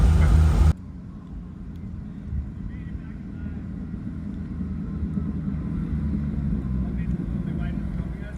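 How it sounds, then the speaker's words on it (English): A 1964 Chevy G10 van engine idling steadily, a low rumbling drone up close with faint wind buffeting and a short burst of louder noise at the very start. "this motor actually runs really good now"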